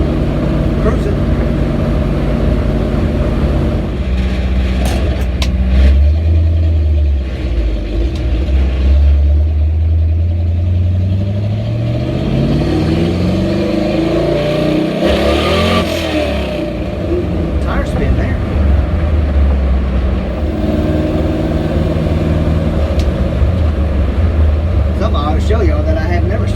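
A 1966 Chevrolet C10 truck cruising at about 45 mph, its engine droning steadily with low road rumble and a rising and falling tone midway, with someone talking over it.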